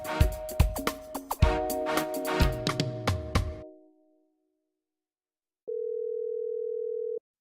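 In a short film, a telephone handset clatters and beeps, then after a brief silence a single steady call tone sounds for under two seconds.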